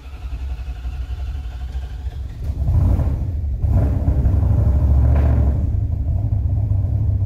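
A turbocharged V8 police car with a custom transmission idles with a deep, close rumble, then revs up louder partway through and keeps a heavy, steady drone.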